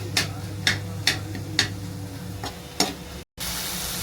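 Chopped tomatoes sautéing in a pan for Maharashtrian vangyache bharit (roasted brinjal mash), with a soft sizzle and about six sharp spatula scrapes at a steady rhythm, then a brief dropout before the sizzle returns.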